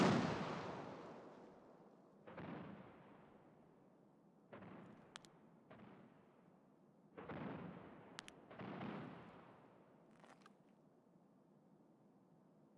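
Mortar strikes landing in Escape From Tarkov, a series of about six heavy booming impacts spaced a second or two apart, each a dull thud with a decaying rumble, mid-distance and fairly loud, with a few sharp cracks mixed in.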